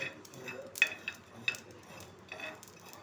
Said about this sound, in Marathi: तर इथे तडतड आवाज आपल्याला बघू शकता. इथे मोहरी उडते.